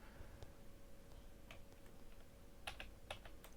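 Keys tapped on a computer keyboard while entering a value in SketchUp drawing software; a few soft, scattered clicks with a small cluster near the end, faint against a steady low background hum.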